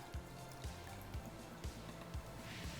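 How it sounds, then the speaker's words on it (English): Cold water is poured into a homemade toasted coconut horchata, making quiet dripping and trickling sounds with soft recurring low thumps, close and faint with no talking. "And now all that's left is just to add some cold water to this."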